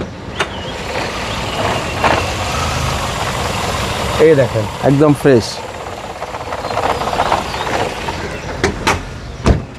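A Toyota X Corolla idles quietly with the engine room open, a soft low hum running throughout beneath a voice, with a few brief knocks and clicks scattered through.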